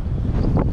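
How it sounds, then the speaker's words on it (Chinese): Strong wind on a mountain trail near a power tower buffets the microphone in a loud, continuous low roar with a brief surge, and no voices are heard. "风很大，"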